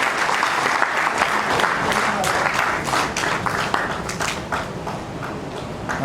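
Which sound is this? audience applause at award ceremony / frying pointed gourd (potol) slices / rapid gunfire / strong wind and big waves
audience applause at award ceremony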